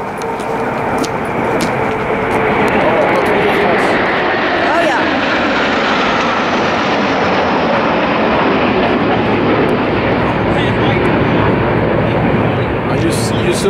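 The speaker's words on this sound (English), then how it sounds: "You saw how the leader bent the plane to salute the graveyard?" French Mirage jets sweep over an American military cemetery in a low saluting flyover, a loud roaring rush that swells and holds for many seconds, with people talking beneath it.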